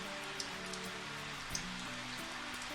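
Steady rain falls in the visual novel KIRA☆KIRA, a constant even patter of drops on a surface with a couple of faint louder taps, no voices.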